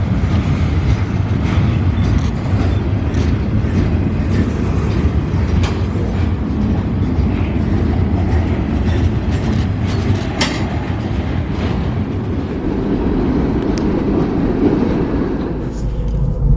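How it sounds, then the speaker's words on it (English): A train rolls over a road crossing in Memphis, making a loud, steady rumble with rattling wheels and clatter that stays close and unbroken throughout. "we get stopped by the same train going over this crossing"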